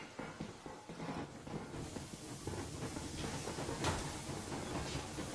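In the video game Metro Exodus, a steam locomotive pulls away with a continuous hiss and a rumbling, rattling chuff. The sound holds at a steady, fairly quiet level for several seconds, with no voices.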